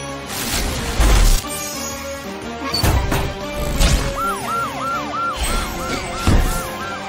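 A cartoon police truck's wailing siren rises and falls repeatedly amid loud crashes, bangs and musical hits in a Halloween ghost-rescue cartoon, all busy and close.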